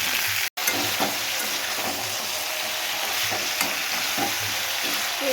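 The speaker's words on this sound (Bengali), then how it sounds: "দিয়ে এটা একটু হালকা করে ভেজে নিতে হবে, খুব কড়া করে না" Vegetables frying lightly in a pan for a curry, a steady close sizzle with faint stirring scrapes throughout, broken by one brief dropout near the start, no talk.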